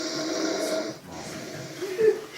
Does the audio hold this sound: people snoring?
yes